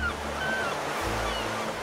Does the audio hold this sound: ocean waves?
yes